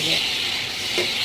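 Onion and tomato sizzling and frying in a pan, a bright steady hiss with a brief stirring scrape near the end, close and loud, no talking.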